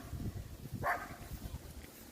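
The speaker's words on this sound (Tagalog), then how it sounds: "Dito may aso din mga tropa. Galit na galit siya mga tropa." A dog at a riverside campsite in Porac, Pampanga, lets out one short, sharp bark at a distance over steady wind noise and low rumble.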